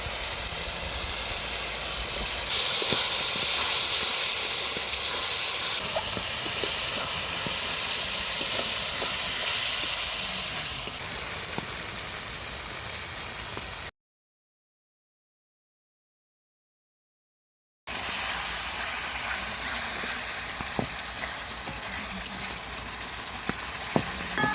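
Chili paste hitting hot oil and spice masala in a pan for a spicy mutton curry, giving a loud, steady, broadband sizzle and hiss that runs continuously, with a short gap partway through before the frying noise resumes at full strength.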